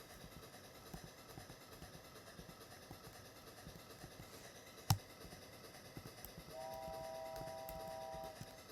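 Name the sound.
train running on track in video game Off Roading Epic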